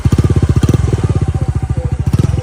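Motorcycle engine thumping fast and loud through an aftermarket muffler during a sound level test, a close, rapid pulsing exhaust beat that briefly eases and rises again, no talk.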